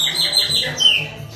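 A chopi blackbird (pássaro-preto) chirping close by, a quick run of bright repeated tweets and whistled notes lasting over a second, loud and clear with no talk.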